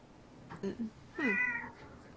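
A cat meows twice indoors, a short pair of calls followed by a longer, louder drawn-out meow, fairly close, with quiet room tone between and no talking over it.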